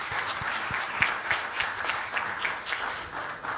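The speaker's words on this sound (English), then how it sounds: "Can we have a resounding round of applause for our legacy partners, please?" An audience at the Jamaica Diaspora Conference 2022 global launch gives a round of applause for its partners: dense, steady clapping from many hands, moderately loud and unbroken for a few seconds.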